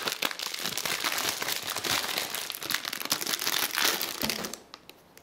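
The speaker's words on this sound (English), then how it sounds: "And unwrap it here." Plastic wrapping crinkles steadily as an NZXT premium PC power cable package is unwrapped by hand, a dense close rustle lasting nearly the whole time before easing off at the end.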